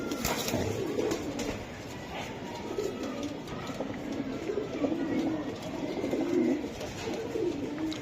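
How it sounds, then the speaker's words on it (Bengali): Several racing Giribaz pigeons coo in soft, repeated low rolling calls close by, over a constant background hum. "তারেক ভাই, জি, যত কবুতরগুলো আমি দেখাচ্ছি ইনশাআল্লাহ, এটা আসলে কেমন দামে দিতে চান"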